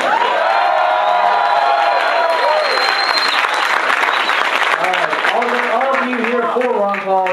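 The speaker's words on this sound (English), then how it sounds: "we'll take whatever cheers and approval we can get" A large crowd at a political town hall meeting in Meredith, New Hampshire claps and cheers loudly and steadily, with whoops and shouts rising through the applause and a voice speaking over it near the end.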